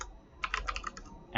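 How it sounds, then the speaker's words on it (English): A quick burst of keystrokes on a membrane computer keyboard during a typing test, about eight soft, close clicks in rapid succession. "Let me actually show you a typing test for both of these"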